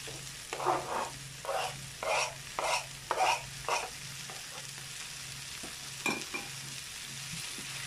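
A vegetarian rice dish is stirred and fried in a pan: a series of rhythmic scraping sizzles come in bursts over a low frying hiss, then fade to a quieter sizzle with one more stir.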